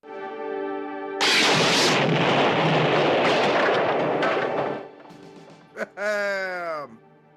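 Bazooka fire and explosions from the 1985 action film Hard Ticket to Hawaii: a loud, sustained blast with rumbling debris for several seconds, fading out, followed by brief shouting voices.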